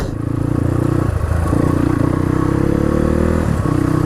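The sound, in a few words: 300cc dirt bike motorcycle engine revving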